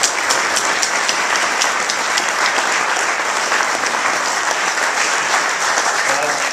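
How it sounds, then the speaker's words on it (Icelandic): Steady, dense applause from an audience honouring horse breeding award winners, the clapping loud and sustained throughout like heavy rain, with no pause. "Ég held að við ætlum að gefa sigurvegarunum gott klapp hérna"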